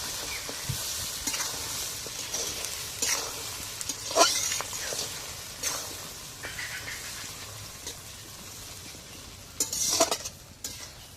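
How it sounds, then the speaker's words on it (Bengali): Green chilies fry for a chili pickle in a pan, a soft continuous sizzle broken by the scrape and clink of a utensil stirring now and then, close and fairly quiet. "ভালোভাবে একটু ভাজা ভাজা করে নেবো"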